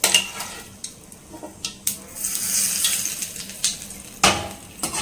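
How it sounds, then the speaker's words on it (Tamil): Oil is poured over homemade mango pickle, a soft liquid hiss running under clinks and scrapes of a metal spoon against a pan or dish, close and fairly loud. "இப்போது இந்த எண்ணெயை வந்து பார்த்தீங்கன்னா இது மாதிரி நம்ம வந்து ஊறுகாய் மேலே ஊற்றிக்கலாம்"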